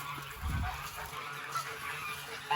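A goose kept in its own pen honks once, a short low nasal call near the start, followed by quieter farmyard ambience with faint fowl sounds.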